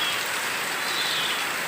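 Steady morning rain at Wat Ban Na Pun temple in Keo Udom, Vientiane, falls as an even, continuous hiss of drops on surfaces, close and unbroken, with no voices.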